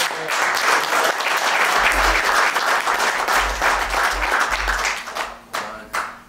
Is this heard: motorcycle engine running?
no